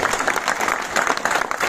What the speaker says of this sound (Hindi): इसलिए दोबारा जोर से ताली बजाओ।